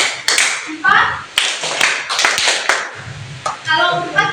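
Classroom of children clapping a counting rhythm game in a primary school lesson, sharp hand claps in uneven bursts mixed with kids' chatter and a teacher's voice.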